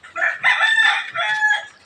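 Close egg-laying hens cluck and a rooster crows in a few strained, bursting calls, with no talk over them.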